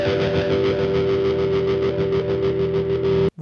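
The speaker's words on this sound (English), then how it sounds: "a JCM 900 amp model, an auto wah feature, and the tape echo running at 527 milliseconds." Electric guitar through a Vox ToneLab on a JCM 900 amp model with auto wah and tape echo at 527 milliseconds: a sustained, distorted note with a sweeping, pulsing filter and echoes, loud and alone, stopping abruptly.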